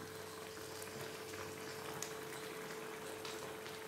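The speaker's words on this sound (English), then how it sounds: "Now I made it simmer" Wild lime citron pickle simmers in a pot, giving a faint, continuous bubbling hiss with tiny pops and a low steady hum underneath.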